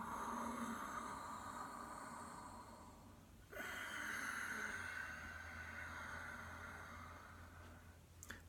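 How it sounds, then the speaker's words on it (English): Ujjayi yogic breathing, soft and airy with a faint whistling hiss, one long slow breath fading then another rising after a brief pause, quiet and close with no talk. "make a sighing, whistling, silky sound called ujjayi breath in Sanskrit"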